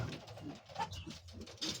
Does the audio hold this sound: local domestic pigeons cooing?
yes